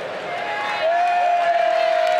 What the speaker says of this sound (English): the crowd is getting ready for the third place match coming up in a moment